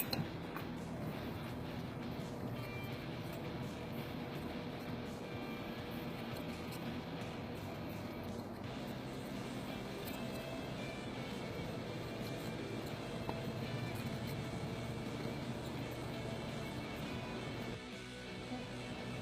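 A tire being siped, its tread cut by a machine in a race-parts shop, giving a steady, loud mechanical grinding and whirring that runs nearly unbroken throughout and dips slightly near the end.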